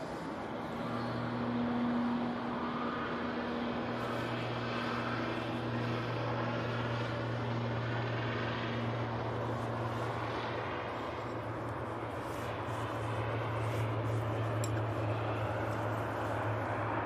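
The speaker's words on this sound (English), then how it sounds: "And the Etihad 777-300ER has started its taxi." An Etihad Boeing 777-300ER taxiing at Manchester Airport gives off a continuous low engine rumble and steady whine that hold evenly throughout, heard at a moderate distance with no voices.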